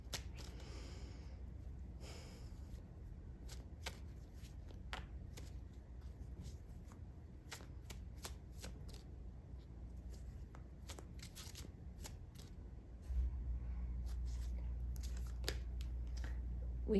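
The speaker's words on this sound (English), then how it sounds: "I'm going to pull some clarifying cards for you quickly here." Tarot cards being shuffled and pulled from the deck, a quiet run of soft riffling flicks and slides that repeat steadily over a low background hum, close and alone with no talk.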